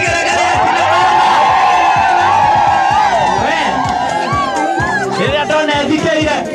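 A loud, dense crowd cheers and whoops at a live Mugithi show, with women's high ululation rising over sustained music and voices, close and continuous throughout.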